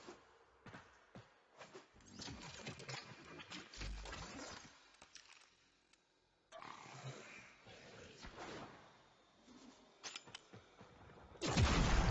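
Envoy rocket launcher firing in the video game Warframe, a run of separate sharp blasts with crackling explosions and debris between them, loud and close, ending in a sudden roar.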